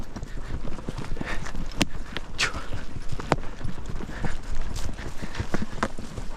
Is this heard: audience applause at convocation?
no